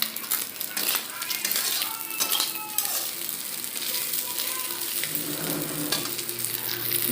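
Chuna fish sizzle and crackle while frying in a pan, a steady close hiss with occasional clinks of a spatula or utensil, no talking.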